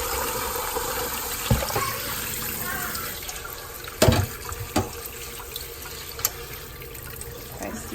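Cold tap water runs steadily into a kitchen sink while fresh peppermint leaves are rinsed, a continuous close splash with a few sharper knocks and splashes breaking through.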